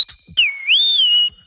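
A beatboxer's mouth imitates the R2-D2 robot whistle: a loud, warbling high tone that slides up and down for about a second, framed by short percussive mouth clicks and breaths.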